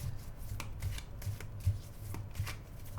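Deck of playing cards being shuffled by hand, a close, soft run of riffling and flicking with quick card snaps recurring every half second or so, with no talking.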